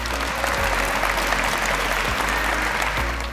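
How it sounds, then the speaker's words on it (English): Student athletes give a full, loud round of applause at a 2015 athletic awards banquet, dense clapping filling the room steadily for the whole stretch with no voices over it. "could the student athletes offer a round of applause to all of them"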